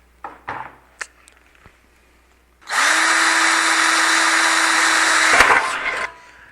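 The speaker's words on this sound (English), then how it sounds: "let's go ahead and start drilling into this thing" A power drill bores holes into a PC case, whirring steadily and loudly for about three seconds after a few handling clicks and knocks, then winding down.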